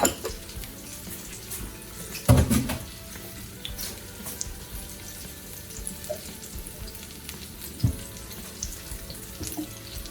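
Green tomato fritters frying in oil, a quiet continuous sizzle with faint crackle, joined by a few louder clattering knocks of kitchen handling near the start and later on, and no talking.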